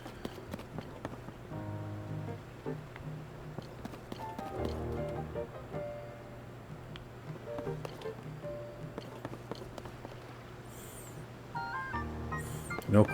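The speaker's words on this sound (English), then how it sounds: "Horses sure are cute." Horse hooves clip-clopping in The Legend of Zelda: Tears of the Kingdom, steady quiet rhythmic steps under soft game music, with brief chiming effects near the end.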